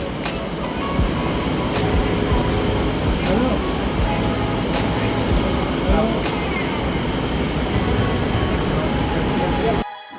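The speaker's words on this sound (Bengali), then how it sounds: "হেরিতে ট্রেন ছেড়ে দিয়েছি" A train rolls on after leaving a station on the way home from Purulia, a steady, loud rumble and rattle of the carriage with faint rhythmic knocks that stops abruptly near the end.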